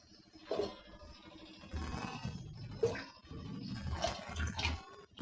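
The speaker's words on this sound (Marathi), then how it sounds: "अजून थोडंसं पाणी टाकून घेते याच्यामध्ये" Water being poured into a pan of egg curry, heard as a few splashing, gurgling bursts of pouring with short pauses between them, close by and moderately quiet.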